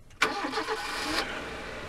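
A car engine in the video game Grey cranks and catches, then settles into a steady mid-pitched idle hum, close and fairly loud, with no voices over it.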